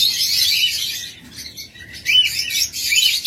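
Pet lovebirds chirping in rapid, bright bursts at close range, a busy flurry of high tweets with a brief lull midway.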